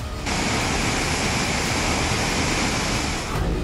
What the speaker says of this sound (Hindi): तवी नदी के पानी ने मचाई जम्मू में तबाही।